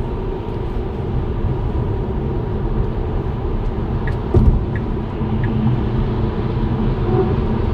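Steady broadband road roar of a car cruising along the open A99 freeway around Munich at sunset, a constant near rumble with a brief louder swell midway and no talk.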